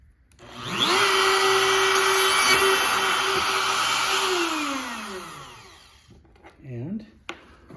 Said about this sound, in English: That should give us a nice countersink hole over that one. Do the same thing here.